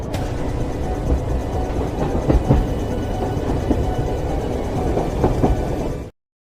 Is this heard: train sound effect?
yes